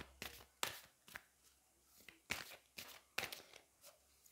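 Matte lunology oracle cards being shuffled and drawn by hand: soft close slides, taps and rustles in an uneven rhythm, quiet and with no talking.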